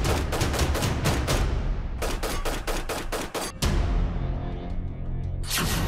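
Rapid bursts of gunfire crack in quick succession during a terror attack on a bus of Amarnath pilgrims, a loud volley followed by another rattling string of shots, then a lingering echo.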